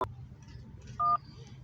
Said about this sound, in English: to access live customer service, press 1.